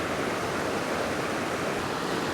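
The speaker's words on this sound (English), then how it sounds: "as the water flows down right and then down left" Steady rushing of a stream flowing over rocks in Glen Etive, a continuous broadband wash of water close by with no voices.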